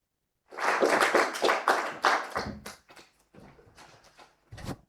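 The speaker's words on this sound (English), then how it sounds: "there was a loud applause" At a meeting, a small audience breaks into applause: a brief burst of close, fairly loud clapping that quickly thins to a few scattered claps and one last clap near the end.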